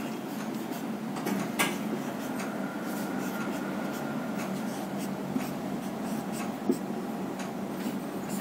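Continuous scratchy writing on a board during a chemistry lesson, steady strokes with a few sharper taps, close and fairly loud with no talk.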